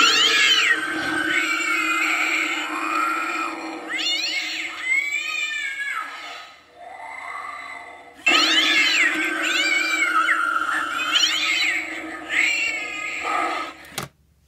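Electronic cat meows from a Spirit Halloween animated pet urn come in two close, loud runs of wavering, yowling calls with a brief lull between them, ending abruptly with a click.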